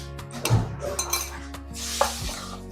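Spoon clinking and scraping against a pan while stirring potato croquette filling with broth powder and flour slurry, a few light metallic taps and chinks spread over a short stretch, no voices.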